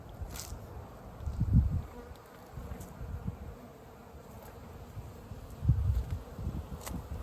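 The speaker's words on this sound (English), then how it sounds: "Got an angry bee buzzing me here." Bees buzzing around beehives on a spring day, low droning hum with an angry bee swelling loud and close in two passes, other insects faint in the background.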